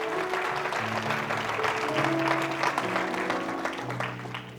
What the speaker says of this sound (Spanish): Alguien aplauda más fuerte que eso para Jesucristo.